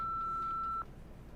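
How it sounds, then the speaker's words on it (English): A single steady electronic voicemail beep from the Nancy Drew game Midnight in Salem, held clear and unbroken for under a second before cutting off, leaving quiet background hum. "Please feel free to leave a message after the beep."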